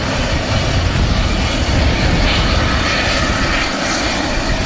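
Qatar Airways jet at Manchester Airport, with a steady, loud roar of aircraft engines running without break from start to finish.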